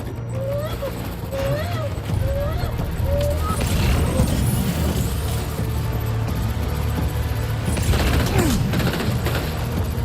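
Combat noise in Death Stranding 2 with a grenade explosion amid steady gunfire and mechanical clatter, loud and sustained, with a person talking over it.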